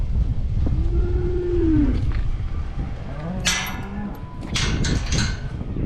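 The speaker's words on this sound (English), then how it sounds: "she's being cast there, that cow." A cow moos on a dairy farm near the milking herd's paddock gates, one long drawn-out low call followed by a shorter, quieter second moo, with faint outdoor rustling and knocks around it.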